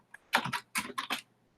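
Quick bursts of keystrokes on a computer keyboard as an email address is typed, a few clustered clicks close by and alone, lasting about a second.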